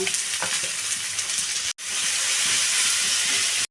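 Onions fry with a pinch of salt in a pan, giving a steady close sizzle broken by a spatula stirring and scraping, with a momentary break partway through.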